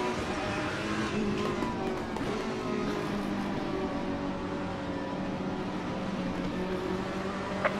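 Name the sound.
Ferrari race car engine, from video game Assetto Corsa Competizione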